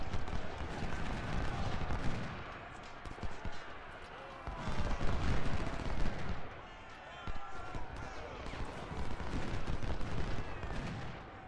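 Gunfire and artillery from the Civil War strategy game Ultimate General, Battle of Cold Harbor, form a dense, continuous battle din of crackling volleys and booming blasts that swells and dips in waves, with no pause.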